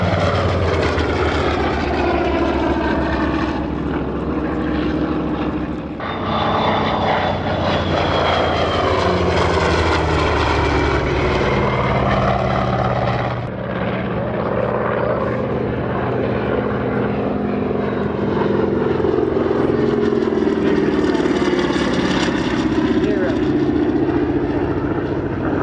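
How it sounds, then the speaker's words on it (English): WW2 Grumman Wildcat and Curtiss Helldiver propeller warplanes pass at an air museum's wartime weekend in Reading, Pennsylvania. Their loud, droning engines rise and fall in pitch as they fly by one after the other. "Here comes the Wildcat. Here's the Helldiver."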